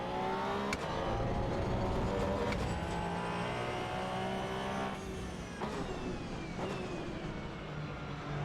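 A race car in the sim racing game Assetto Corsa Evo drives with a loud, sustained engine drone that climbs and drops in pitch through gear changes and revving, heard alone without talk.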